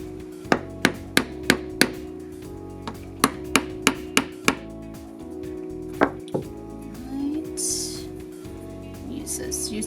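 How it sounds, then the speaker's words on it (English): A hammer taps wooden dowel rods into place on a DIY craft kit, giving a series of sharp, close knocks in quick bursts of several taps, with a person talking in the background and some rustling afterward. "Use a hammer to tap the dowel rods into place."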